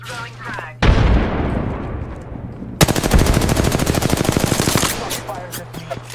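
Gunfire from a sci-fi shooter video game firefight, with a loud close burst followed by a rapid, steady automatic volley that then trails off into ringing noise.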